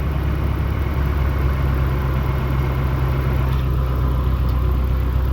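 A Ford Ka engine idling after an idle screw adjustment, a steady low rumbling hum that holds even and close throughout with no talking.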